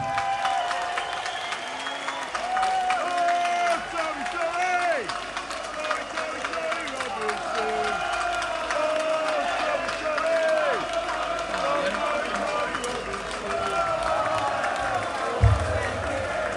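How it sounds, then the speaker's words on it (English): A protest crowd outdoors gives a round of applause, steady dense clapping mixed with shouts and chatter that runs throughout, with voices calling over it. "let's have a round of applause for Tommy Robinson"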